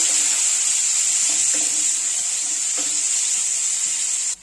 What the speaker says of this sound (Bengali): এই তেলের মধ্যে এবার ভেজে নেব কুচিয়ে রাখা 3টে মিডিয়াম সাইজের পেঁয়াজ।